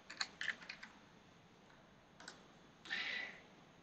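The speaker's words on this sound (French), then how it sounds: "je peux venir cliquer dessus et taper au clavier l'information souhaitée" Keyboard typing while entering data into a Microsoft Excel spreadsheet: a few quick clusters of soft clicks, then a short louder burst of keystrokes near the end, faint and close, with no talking.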